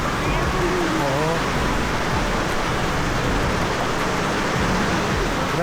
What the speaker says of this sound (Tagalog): Grabe yung ulan, no? Galit na galit.